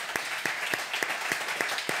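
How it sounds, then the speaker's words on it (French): Audience applauding a guest cook, with steady applause beneath a regular, rhythmic beat of louder unison claps roughly every quarter second. "qu'on peut applaudir d'ailleurs"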